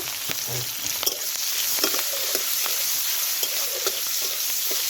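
Panch phoron, chopped onion and green chili frying in hot oil, a loud steady sizzle and crackle close up with occasional pops and stirring taps, no talking.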